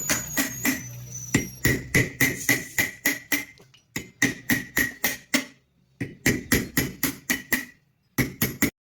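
Hand tools work at the magneto of a KTM motorcycle engine, a rapid series of sharp metallic ratcheting clicks and taps in bursts with brief pauses, close and fairly loud.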